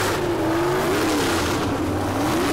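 A very loud car engine in the BeamNG.drive driving game drones and revs steadily, its pitch rising and falling slightly under a constant roaring wash of noise, with no talking.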